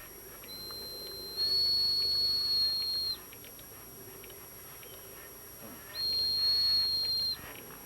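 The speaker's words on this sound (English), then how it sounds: "The whistle has a dual function in that it also monitors the position of the onboard control gear." Steam whistle on an OO gauge live steam model train, sounding two steady high-pitched blasts of about two seconds each, separated by a pause, over quiet background running noise.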